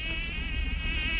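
A bee buzzing steadily and close at hand, a continuous droning hum with no break across the whole short stretch.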